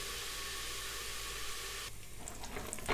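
Garlic and ginger sizzle as they fry in a pot, a steady, close hiss of hot oil that continues throughout, shifting slightly near the end as they are stirred.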